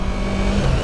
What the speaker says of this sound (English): It definitely revs up,